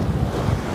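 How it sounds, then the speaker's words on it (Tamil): Floodwater in Jaffna spilling up onto and across a road, a steady broadband rush and wash of water with wind-like low rumble, continuous and close, no voices. "தண்ணி ரோட்டுக்கு ஏறிட்டு"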